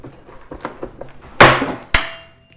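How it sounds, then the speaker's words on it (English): A hammer strikes during removal of fascia on a building: a few light taps, then two sharp, loud impacts with ringing decays, close by. "what kind of hammer is this?"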